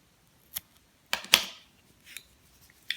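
A few quick snips of scissors cutting crochet yarn, close and crisp against a quiet room, with one pair of sharp cuts in the middle and lighter clicks before and after.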